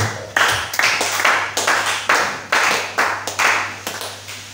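A church congregation claps after a Bible verse is read, a rhythmic series of loud unified hand claps, about a dozen in steady beats, over a constant low electrical hum.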